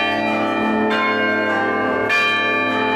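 Church tower bells ring out the melody of a song, sustained overlapping tones with strong metallic overtones, a new strike swelling near the end; no voices.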